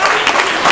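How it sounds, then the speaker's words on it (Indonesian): Brief burst of group applause from a classroom audience after a takziah and grave-visit lesson, steady dense clapping throughout, no talk over it. "kita beri aplaus dulu untuk kelompok 1"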